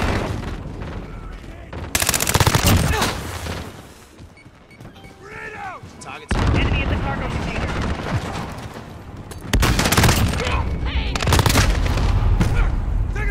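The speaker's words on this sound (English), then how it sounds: "Random ass frag grenade." A frag grenade explosion and gunfire in a video game, with heavy booms and bursts of rapid automatic fire, loud and close, broken by short quieter gaps and some talk in the background.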